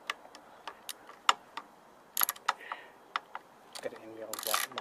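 A ratchet loosens the 8mm handlebar clamp screws on a Harley-Davidson XG 750 Street, giving sharp, close clicks in irregular bursts and ending in a quick run of rapid ratcheting.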